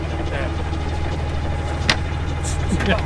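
A van engine running and idling close by while it is turned around, a steady low rumble with faint clicks and movement noises.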